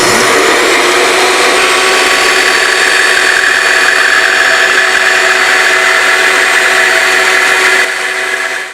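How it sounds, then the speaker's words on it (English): A bandsaw runs loudly and steadily, cutting curves into a tapered wooden leg, with a continuous high whine and broadband rasp throughout and no talking, easing off slightly at the very end. "Alright, now it's back to the bandsaw to cut our curves."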